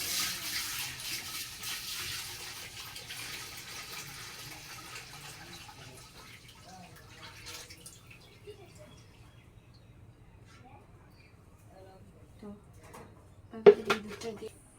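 Thin milk poured into a pot for homemade sweet curd makes a soft, low liquid pour for a few seconds, gradually fading, followed by quiet handling and a brief metallic clatter near the end.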